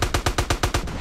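Rapid automatic gunfire from a powerful gun in the video game GTA, about seven evenly spaced loud shots in quick rhythm, heard alone without talk.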